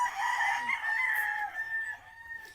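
A tethered rooster on a Philippine chicken farm crows in one long, loud, nearby call that trails off, with faint clucking around it.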